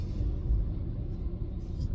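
A truck engine rumbles steadily and fairly loudly, a dense low drone holding for a couple of seconds with no break and no talk over it.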